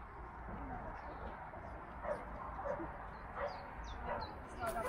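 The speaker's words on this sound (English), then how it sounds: "This is the black dog." A black dog in a forest gives faint, scattered yips and whimpers over a constant noisy outdoor background, fairly distant and never loud.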